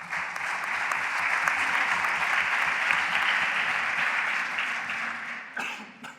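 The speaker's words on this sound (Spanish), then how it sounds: "le damos un fuerte aplauso" At a talk on innovation and outreach in noble family archives, an audience gives a speaker sustained, dense applause that stays at an even level and then tapers off at the end.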